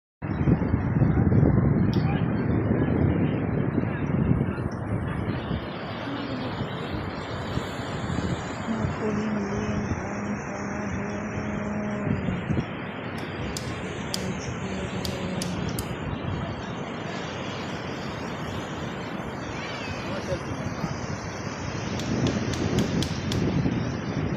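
Gusty, cold wind at a campsite by the Pacific Ocean buffets the microphone in a low roar, with faint background voices and a few light taps.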